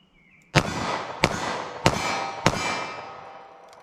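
Four sharp gunshots from a .38 Special snub-nose revolver loaded with standard-pressure Federal Hydra-Shok rounds, fired in quick succession about two-thirds of a second apart, each loud crack trailing into a ringing decay.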